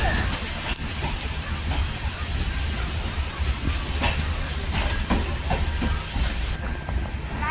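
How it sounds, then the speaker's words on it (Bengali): Sri Jagannath Express rolling slowly toward Puri station, a steady low rumble of the moving train with faint hiss and occasional clicks and squeaks, continuous throughout. "এখন আমাদের ট্রেন কিন্তু একদম ধীর গতিতে পুরী স্টেশনের দিকে রওনা দিচ্ছে"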